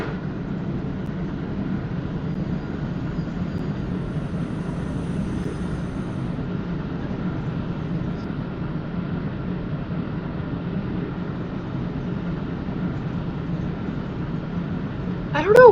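A train in the Rail Sim Universe video game runs along steadily, giving a continuous low rumbling drone at a constant even level throughout.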